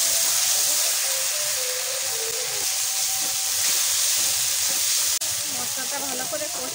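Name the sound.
spice paste frying in a pan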